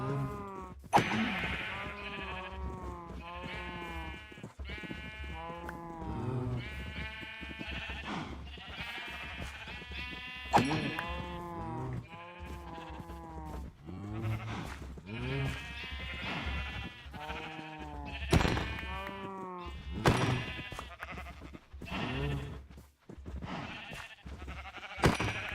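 Sheep in the Minecraft video game bleat repeatedly and overlapping, a steady chorus of close, clear bleats continuing throughout with short pauses.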